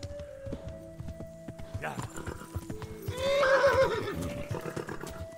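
In Kingdom Come: Deliverance, a horse's hooves clip-clop steadily on the ground, then the horse gives a loud whinny partway through, over a quiet game backdrop.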